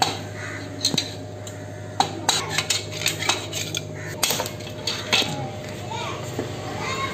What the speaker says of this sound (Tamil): இந்த பக்கம் வந்து ஒரு ஸ்க்ரூ ட்ரைவர் வச்சுட்டோம்னா அது வெளில வந்துடும்